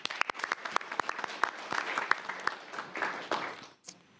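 A brief round of applause from a community redevelopment agency meeting audience, steady clapping for a few seconds that fades out with a single late clap.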